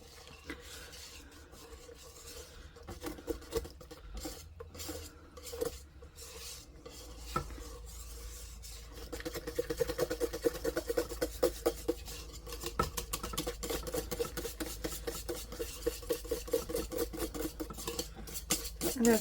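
Whipped mousse soap mixture is stirred in a pot set in a warm water bath, giving soft scraping and rubbing strokes that start sparse and quiet, then grow busier and more rhythmic.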